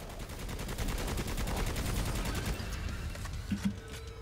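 Rapid continuous gunfire from the player's weapon in the video game Necromunda: Hired Gun, a dense stream of shots for several seconds that thins out near the end.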